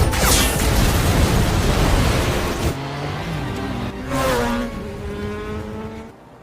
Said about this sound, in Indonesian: Zuko berhasil lolos dengan meledakkan sebuah mobil yang melintas membawa tabung gas